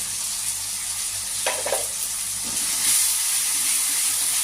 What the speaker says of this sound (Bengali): এবার আমি পেস্ট মশলাটা দিয়ে দিলাম